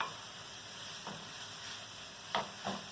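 Masalas with onion and coconut frying in oil in a pan for a beans and potato curry, a soft steady sizzle with a few brief stirring scrapes, faint and close.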